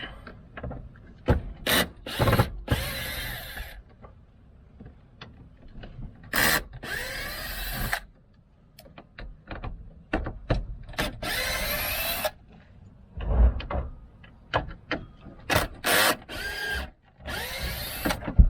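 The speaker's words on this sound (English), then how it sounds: "This old cordless drill, Porter cable." Porter Cable cordless drill, about eight years old, backing screws out of a top flange while a camper AC unit is taken apart; short bursts of whirring recur with pauses of handling and rubbing between them, close and moderately loud, with no talk.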